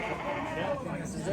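Sheep bleat among the sheep rows of a livestock market in Angren, a brief bleat rising over a dense crowd of voices and general market bustle.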